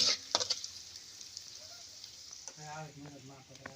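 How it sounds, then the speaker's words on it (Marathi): Soft sizzling of spice tempering with turmeric in hot oil on a wood-fired stove, punctuated by a few sharp scrapes of a spoon stirring the pan, with a voice talking toward the end. "आजी आता व्यवस्थितपणे हलवून घेणार आहे बघा फोडणी"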